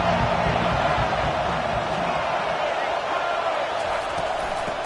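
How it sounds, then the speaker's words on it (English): A football stadium crowd rises into a broad, continuous roar of cheering that fills the whole stretch, a dense wash of many voices from a distance with no single sound standing out. "This crowd rising up, sensing that its defense needs some help."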